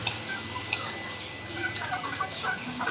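Aseel chickens cluck in short bursts over a busy, noisy background, with scattered higher squawks close by.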